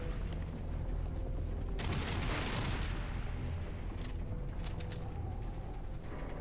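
Gunfire in the sci-fi shooter Lost Planet 3, a harsh burst of shots with a long blast wash early on, followed by scattered sharp cracks over mechanical background noise, no talking.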